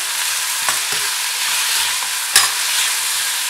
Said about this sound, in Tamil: கொஞ்சம் சோம்பு சேர்த்துக்கிறேன், அப்புறம் கொஞ்சம் மிளகு, கொஞ்சம் கல்லுப்பு, இதை நல்லா வதக்கிக்கிறேன்